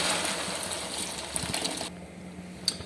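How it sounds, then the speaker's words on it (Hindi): Water pours into soaked rice in a pot for aloo matar pulao, a close, steady gushing that runs for about two seconds and then stops, leaving faint clinks. "अब इसमें जो है ना हमने पानी डाल देना है।"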